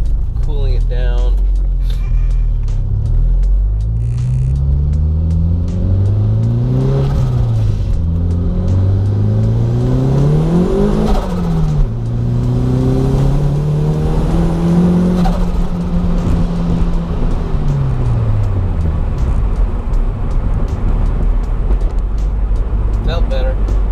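A turbocharged Toyota MR2 engine revs hard through an acceleration pull, the loud, rising engine note climbing and dropping across several gear changes, heard from inside the car over continuous road rumble.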